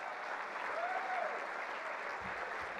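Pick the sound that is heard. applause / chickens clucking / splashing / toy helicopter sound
applause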